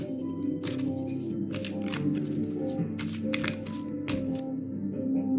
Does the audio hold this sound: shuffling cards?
yes